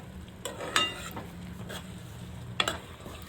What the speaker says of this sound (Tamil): இப்போ இஞ்சி பூண்டும் தக்காளி இதெல்லாம் போட்டு வதக்குறேன்